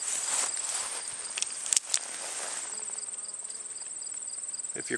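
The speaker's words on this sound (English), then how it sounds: "If you're quiet, you can just hear all kinds of bee activity." Insects buzz and hum steadily beside a cornfield in Minnesota in late August, a continuous high, fairly faint drone with a few soft rustles and footsteps.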